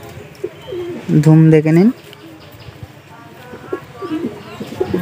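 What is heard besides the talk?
pigeons cooing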